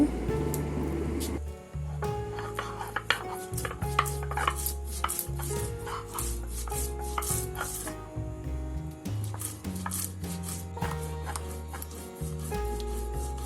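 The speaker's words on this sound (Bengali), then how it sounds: "আমি এখানে শিলপাটায় মশলা বেটে নেই।" Rhythmic grinding and rubbing of stone on stone as spices are ground on a flat grinding stone (shil-pata), repeated strokes with scraping clatter, close and fairly loud throughout.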